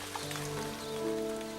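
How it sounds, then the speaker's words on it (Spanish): Heavy summer rain shower pouring over a garden in South Africa, a steady dense hiss of drops hitting leaves and ground, continuous and fairly close, with faint tonal background hum underneath and no talk. "Vengo a Sudáfrica en pleno verano y se pone a llover a chaparrones."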